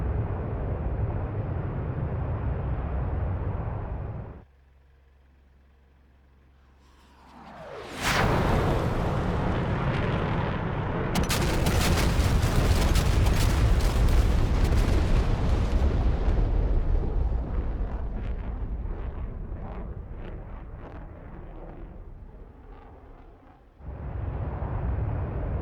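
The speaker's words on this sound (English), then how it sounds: "Alright, bombs away." High-drag bombs from an AJS-37 Viggen strike a SAM site in DCS, a loud prolonged roar of explosions with crackling bursts that swell, rumble for many seconds and fade, after a quiet whooshing release.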